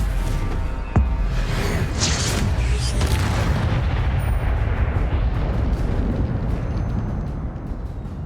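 An Incendio fire spell bursts in Hogwarts Legacy, a loud booming blast around the one-second mark that rolls into a sustained roaring, crackling rumble lasting several seconds before easing off.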